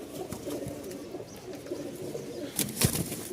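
Cooing from a Rajshahi feather-legged giribaz pigeon, a few soft low coos near the mic over faint background noise, with a couple of sharper knocks near the end.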